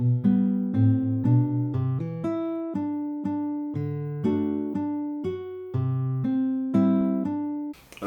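Guitar played African fingerstyle in Seben/Rumba style, a bright run of plucked notes and layered picked patterns in a lively rhythm, played solo and close with no talking.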